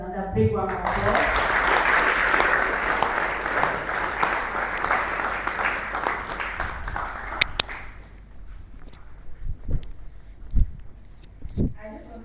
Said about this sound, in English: I think the dean deserves another big round of applause.